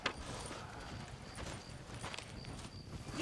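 Horse hooves clip-clop in a steady walking rhythm in a video game, faint and soft against a quiet ambient background, with no speech.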